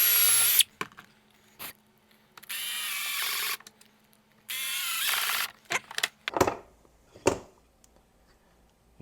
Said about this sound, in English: Countersink drill bit, and then I'm using a 2-inch construction screw.